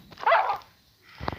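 A dog in the Minecraft video game barks, with a loud burst of barks near the start, a quiet pause, then a shorter bark at the end.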